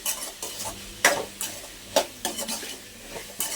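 A spoon repeatedly scrapes and clinks against a pan while stirring a Telugu drumstick curry (munakkaya pulusu) mixture, with a soft sizzle underneath. The strokes are irregular and close, with sharper knocks at intervals.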